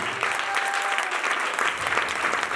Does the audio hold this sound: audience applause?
yes